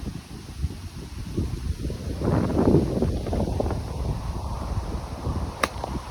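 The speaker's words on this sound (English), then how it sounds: "this wind is really picking up now" Strong gusting wind on a golf course buffets the microphone in a broad, rumbling roar that swells and eases, with a brief sharp tick near the end and almost no talk.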